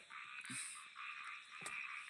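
Frogs croak in a faint, continuous chorus indoors after heavy rain flooding, with a couple of soft nearby knocks.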